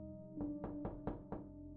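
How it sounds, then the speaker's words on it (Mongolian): Five evenly spaced knocks on a door in a dark house at night, each a dull thud, sound faintly over a low steady hum. "дахиад л хаалга тогшох ч юм ээ."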